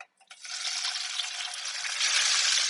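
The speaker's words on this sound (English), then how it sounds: "So I'm going to throw the short ribs in there." Short ribs searing in a covered pan on high heat, giving a loud, steady sizzle and spatter that starts after a brief quiet moment and swells slightly near the end.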